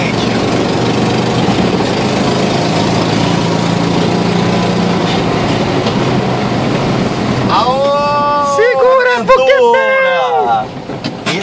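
The engine of a 1966 Volkswagen Fusca 1200, leaking a lot of compression, runs with a loud, continuous rough drone that lasts most of the time before a voice cuts in over it near the end.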